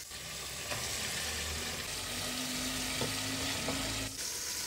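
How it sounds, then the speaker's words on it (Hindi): Peeled, quartered tomatoes sizzle as they go into beef frying in a pot for Peshawari namkeen gosht, a steady loud hiss and crackle with occasional stirring clinks, no voices. "अब हम इसमें डाल देंगे 4 अदद टमाटर।"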